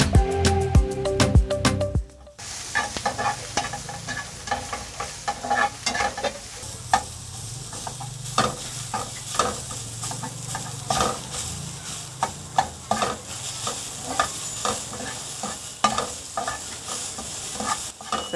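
Green onions stirred and frying in a hot pan, a steady sizzle with repeated scraping stir strokes throughout, after a brief clatter of the pan going back onto the heat.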